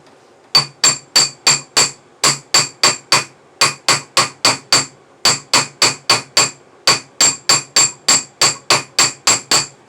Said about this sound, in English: you can use the same hammer and you're going to just start beating it